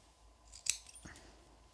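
Scissors trimming the yarn tails of a knitted Santa hat: two quick close snips over a quiet background.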